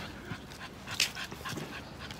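A dog whimpers softly and pants after a walk, close by, with short whiny yips and breathy huffs over a couple of seconds.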